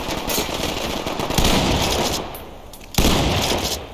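Enemy gunfire in the tactical shooter Ready or Not, loud rapid automatic bursts with several sharp heavy cracks standing out, briefly easing before another close shot rings out.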